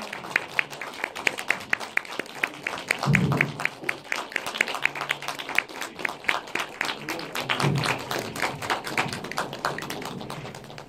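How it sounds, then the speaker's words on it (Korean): An audience at a Korean film screening event (GV) for "House of Hummingbird" claps, sustained applause of many hands in a hall, steady and moderately loud, with faint cheers rising a couple of times. "박수 부탁드릴게요."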